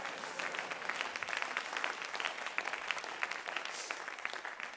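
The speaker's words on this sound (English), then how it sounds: "Clap your hands and say," A worship-service audience claps steadily for nearly five seconds, a dense, even patter of many hands at moderate distance with no talking over it.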